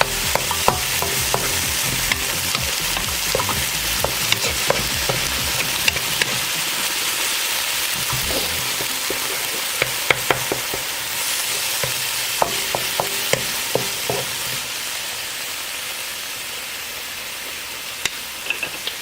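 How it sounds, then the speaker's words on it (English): A pan sizzles loudly and steadily as it is deglazed with juice and stirred, with a constant frying hiss and scattered scraping clicks from the utensil across the bottom, close up and without speech. "So it's just deglazing the pan."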